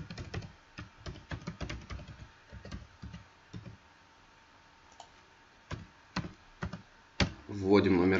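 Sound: typing a bank card number on a computer keyboard

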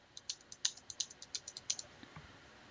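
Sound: typing numbers on a calculator keypad

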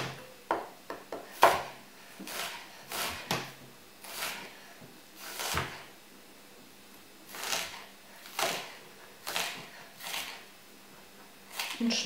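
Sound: knife chopping an onion

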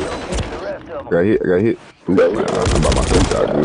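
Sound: gunfire in a video game

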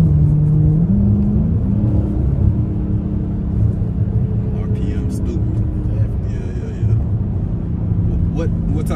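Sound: Dodge Hellcat Challenger Widebody Hemi engine rumbling

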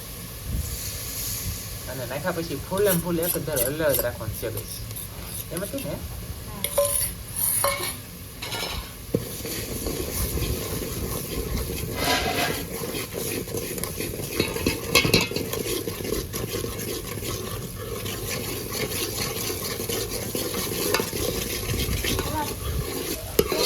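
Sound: egg khima gravy stirred into frying onions in pan

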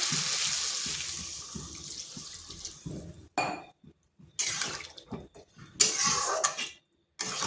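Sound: hot water being poured into the pan

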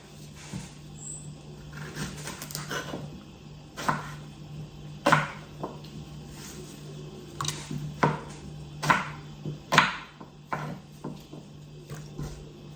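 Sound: knife cutting eggplants

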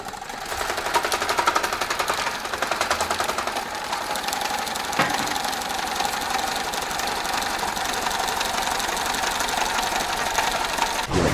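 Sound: electric fan being switched on and running

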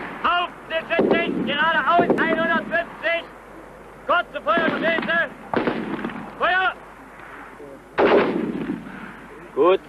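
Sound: gunfire from small arms at a shooting range

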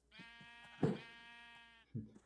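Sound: sheep bleating in the video game Minecraft

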